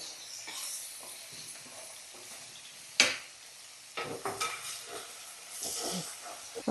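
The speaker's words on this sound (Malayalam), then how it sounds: "നമുക്ക് ഒരേ സമയം 2ഉം വഴറ്റിയെടുക്കാം" Fish curry and a roast with green chillies being sautéed together in pans on a home stove, a soft steady sizzle with occasional scraping stirs and a sharp utensil clack, close and alone without talk.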